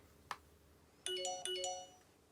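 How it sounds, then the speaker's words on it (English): Phone notification chimes: one quick ping followed by a short run of bright, bell-like electronic tones, heard alone in a quiet room. "Sorry about the notifications."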